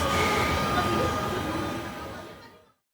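A train passing, heard as a loud, broad rushing rumble with rail clatter that holds steady, then fades and cuts to silence near the end.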